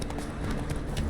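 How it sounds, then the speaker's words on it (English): Roach, the horse in The Witcher 3, galloping with rapid, close hoofbeats that run continuously over a dense wash of game ambience for about a second. "Not so fast, Roach."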